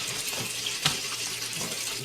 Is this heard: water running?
yes